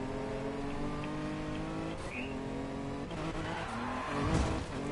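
A car engine in Need for Speed Payback drones at high revs while tires squeal in short bursts as the car drifts through corners.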